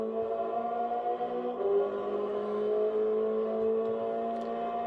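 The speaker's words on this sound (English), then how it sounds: "Revving it up in 4th, down to 3rd." A Subaru BRZ race car on the Watkins Glen long course holds a steady, droning engine note heard from inside, rising slightly in pitch, with a brief dip around a gear change.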